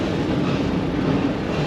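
Steady, loud rumble of an amusement park train ride at Busch Gardens Tampa, a continuous rolling drone with no clear clacks or voices over it.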